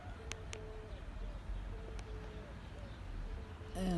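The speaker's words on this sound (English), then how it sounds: "You can hear the doves." Doves coo softly at dusk outdoors, faint low repeated hoots scattered through a quiet ambient background with a few distant chirps.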